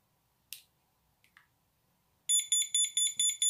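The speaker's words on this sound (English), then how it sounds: "you get a blooping on this little test gadget called a ghost" A small ghost bug detector picking up an FM microphone transmitter lets out a run of rapid, bright electronic bloops in even pulses, loud and close, after a couple of faint clicks.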